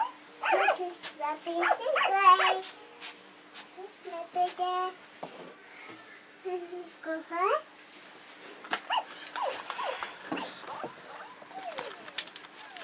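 A puppy yaps and whimpers in short, scattered bursts, close by indoors, mixed with a voice and an adult talking between the sounds.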